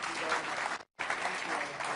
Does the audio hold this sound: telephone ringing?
no